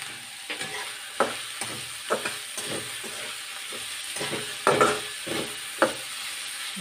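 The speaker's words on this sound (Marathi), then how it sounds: "तेलात छान शिजवली मी, परतली मस्त" Vegetables for fried rice sauté in hot oil, a steady sizzle broken by repeated scrapes and clacks of a spatula stirring the pan, fairly close and moderate in level with no talking.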